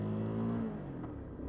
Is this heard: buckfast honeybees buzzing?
no